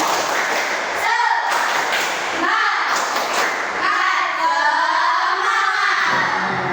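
A class of schoolchildren in a classroom doing a spirited clap chant, loud rhythmic group claps and thumps in bursts with chanting voices between them.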